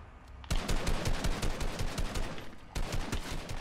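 Automatic weapon fire in Fortnite, a rapid loud burst of evenly spaced shots lasting about two seconds, a brief pause, then another burst, close and with no talk over it.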